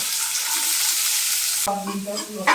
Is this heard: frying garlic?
yes